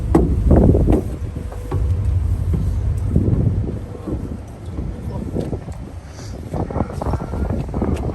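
Wind sweeps across the open sun deck of an Isle of Wight ferry, a steady, loud low buffeting and rumble on the microphone that rises and falls throughout, with faint movement noise underneath.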